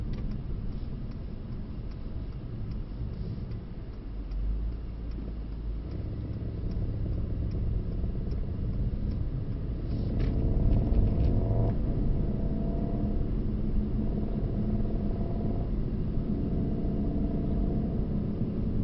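A Mercedes-AMG GT63 Pro driving on a race track, its engine a steady low drone heard from inside the car that swells a little louder midway, with no talking.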